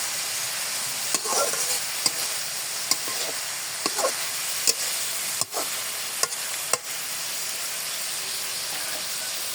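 Bitter gourd and shrimp fry in a pan with a strong continuous sizzle, punctuated by sharp scrapes and clinks of stirring at irregular intervals, no talking.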